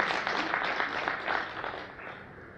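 An audience at a Telugu book launch and anniversary function claps for the author, a steady wash of applause that fades slightly toward the end, heard without talk.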